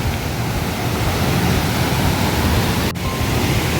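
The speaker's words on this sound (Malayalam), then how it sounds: "ഉള്ളൊരു പാറമട, അതിൻ്റെ മുകളിൽ നിന്നുള്ള വെള്ളച്ചാട്ടം." A waterfall pours over the rock face of a quarry in Kannur, making a loud, constant roar of rushing water. One brief drop in the sound comes near the end, with no voices.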